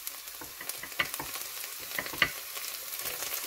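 Chicken wings frying and browning in a pan, a steady close sizzle with scattered crackles and pops and occasional stirring scrapes throughout.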